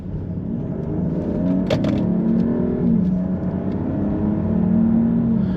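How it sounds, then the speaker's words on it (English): A 2020 Mercedes-Benz GLS 450 4Matic SUV with an inline-6 turbo accelerates, its engine a steady, loud cabin drone whose pitch climbs and dips as it pulls, with no talking. "Let's go ahead and just drop down here a little bit and give us a little bit of acceleration."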